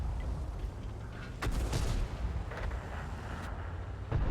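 Artillery fire in the World of Tanks video game: several heavy booming impacts and shell blasts over a dense rumbling battle background, fairly loud and steady, with no talking.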